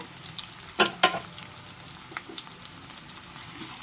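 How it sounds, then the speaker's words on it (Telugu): Cauliflower pieces frying in oil with ginger paste added, a soft steady sizzle broken by a few sharp stirring clatters near the start, no talking. "కాలీఫ్లవర్ ముక్కలు చక్కగా ఇలా ఫ్రై చేసుకోవాలి"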